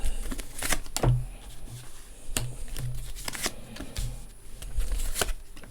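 Tarot cards are shuffled in quick riffling bursts for a nine-card spread, the papery flutters coming in several separate runs with short pauses between them, close and fairly loud.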